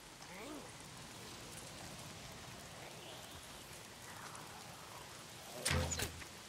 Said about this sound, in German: Mal sind's die Freaks und dann dieser verdammte Regen. Wieso regnet es andauernd?